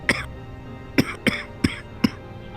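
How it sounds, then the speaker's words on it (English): Five sharp coughs from one person, close and fairly loud: a single cough, a pause of almost a second, then four more in a loose, uneven series, with quiet room tone between them. "just a little cough"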